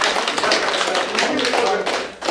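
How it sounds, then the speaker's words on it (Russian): An audience applauds at a book presentation event with dense, continuous clapping that stays loud and close throughout. "Давайте Гене похлопаем."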